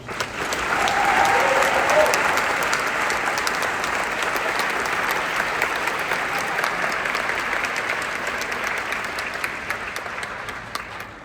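Audience applause at a town hall gathering for democracy, a steady, dense wash of many hands clapping throughout, swelling early and then holding fairly even before easing slightly.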